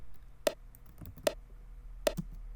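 Hardstyle kick drum attack layer made with Sylenth1, a fast-decaying pitch envelope that gives three short sharp clicky hits spaced unevenly, faint and dry, with no talking.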